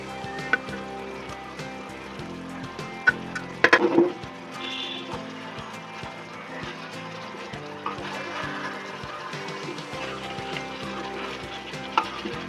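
Meat pieces fry in oily spiced masala for homemade tandoori, a continuous close sizzle with stirring scrapes and a burst of louder crackling when the meat goes into the pan, no talking.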